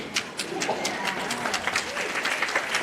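Scattered applause from a small audience, uneven claps rising and falling in bursts, with some murmuring and rustle beneath.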